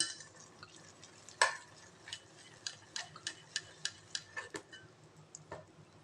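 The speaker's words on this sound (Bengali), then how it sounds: "ব্যাটারটা ঠিক এরকম ঘন হয়েছে, এবার এইভাবে ফেটিয়ে নিতে হবে।" Thick gram-flour style batter for stuffed kakrol fry being whisked in a bowl, a series of sharp, close ticking strikes of the whisk against the bowl at an uneven rhythm, moderately quiet with no talk.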